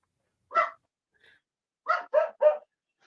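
A small 14-pound dog lets out a single sharp bark, a faint sniff after it, then a quick burst of three close, loud yaps in a row, with no talk over them.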